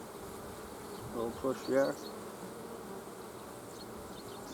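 Honey bees on a hive frame give off a constant buzzing hum, and someone speaks briefly partway through.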